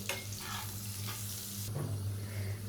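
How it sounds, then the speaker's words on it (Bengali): Potatoes frying in hot oil with salt and turmeric for an omelet masala curry, a steady close sizzle with bursts of bubbling as pieces are stirred. "আলুগুলোকে একটু ভালো মতো ফ্রাই করে নেব।"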